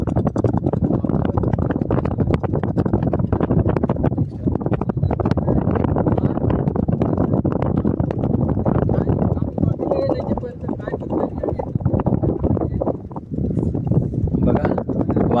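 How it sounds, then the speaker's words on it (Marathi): Strong monsoon wind at sea during fishing from a boat, a loud continuous buffeting roar that batters the microphone throughout, with a voice speaking under the noise. "वाऱ्याचा तुम्ही आवाज ऐकू शकता"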